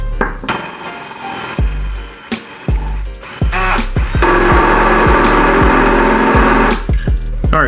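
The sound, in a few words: drilling a hole through a metal part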